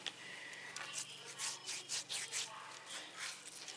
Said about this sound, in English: I'm just going to rub this salt in gently and make sure I get in every nook and cranny